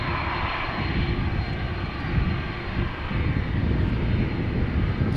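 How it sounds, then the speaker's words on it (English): Jet engines of an Airbus A330 roar at Amsterdam Schiphol Airport, a loud, steady, close broadband rumble that drowns out everything else for the whole stretch. "Sound of the A330's engines overpowering all other sounds over here."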